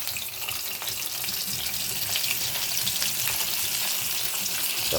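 Fish coated in cornstarch frying in hot oil, a steady dense crackling sizzle running throughout at close range with no one talking.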